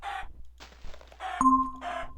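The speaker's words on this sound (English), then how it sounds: "You can kill chickens here for their feathers." A Minecraft chicken clucks in short bursts, then gives a hurt squawk as it is struck and killed, followed by a final cluck, all close and with nothing else heard.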